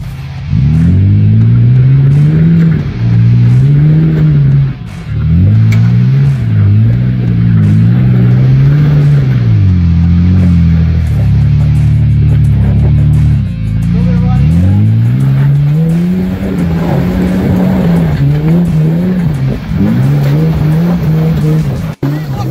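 4WD engine revving hard and labouring in waves while climbing a rocky track at Toolangi with an electric rear diff locker engaged, loud and close throughout with tyres scrabbling and occasional talk underneath.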